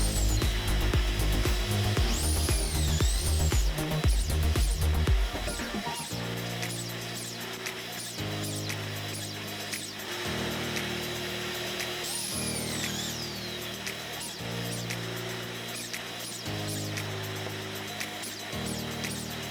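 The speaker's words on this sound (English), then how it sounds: "The next step is to drill pocket holes using the Craig Foreman" Kreg Foreman pocket-hole machine drilling into plywood, a whining motor spinning up in repeated cycles with short pauses between holes, close and fairly loud.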